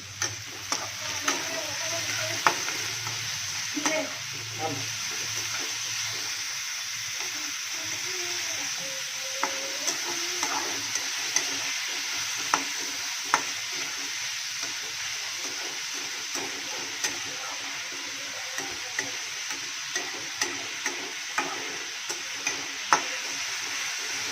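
Onion stir-frying in a hot pan gives off a continuous sizzling hiss, broken by regular sharp clicks and scrapes of a spatula against the metal over a long stretch.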